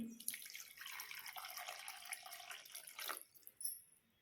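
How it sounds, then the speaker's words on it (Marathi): Water pours steadily into a pan for about three seconds, a broad hissing splash that stops abruptly, followed by a few faint drips. "आता यामध्ये मी थोडंसं पाणी टाकत आहे"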